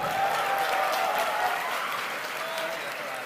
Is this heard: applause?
yes